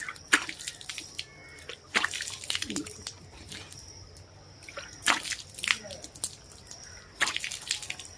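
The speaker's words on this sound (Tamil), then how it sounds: "இப்போ தண்ணி வச்சு வாஷ் பண்ணுவோம்." Water is splashed onto a face during washing in a series of close, separate wet splashes and slaps, each followed by dripping, with quiet pauses between.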